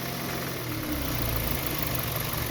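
A Hyundai Veloster engine idles in neutral, a steady close low hum with faint mechanical vibration and no voices.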